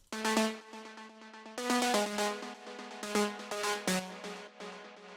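A bright synth lead preset, first of two layers in a melodic techno pattern, plays a bouncy, rhythmic melodic pattern with crisp plucked attacks and quick repeated notes.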